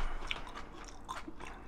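Someone chews seasoned spring butterbur greens dressed with doenjang, soft moist bites with faint crunchy clicks in a steady close-up rhythm, no talk.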